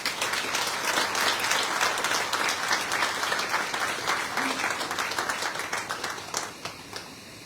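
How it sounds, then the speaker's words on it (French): Sustained applause from an audience at a prefect's social-cohesion event in Guadeloupe, a thick continuous wash of many hands clapping at fairly even loudness, tapering slightly at the end. "encore un tonnerre d'applaudissements"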